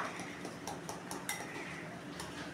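A lid is set over a container of dhokla batter in a home kitchen, giving a few faint, short clinks and taps close by in an otherwise quiet room.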